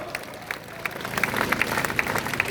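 A crowd at a political rally applauds a speaker. The clapping is fairly distant and builds from scattered claps into denser applause, with murmuring voices mixed in.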